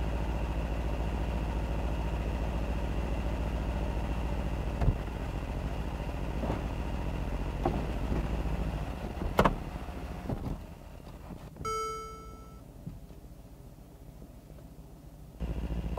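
The retractable hardtop of a 2017 Mercedes-AMG SL63 closes over a steady engine idle, with mechanical clunks and whirring near the end, then a brief chime and a quieter idle.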